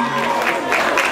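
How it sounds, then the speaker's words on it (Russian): Audience applause at a children's choreography competition, a short burst of crowd clapping mixed with a voice speaking over it. "наши аплодисменты."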